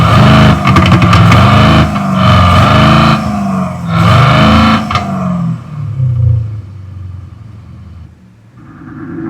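A THOR electronic exhaust on a 2020 Mercedes W118 CLA180 Coupe imitates a Mercedes E63S AMG engine, loud synthetic rising and falling revs with a deep rumble, then tailing off to near quiet.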